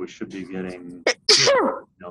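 A single sharp human sneeze bursts out in the middle of a man's speech, with talking both before and after it.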